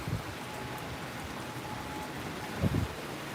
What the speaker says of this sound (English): oh, here comes heavier rain.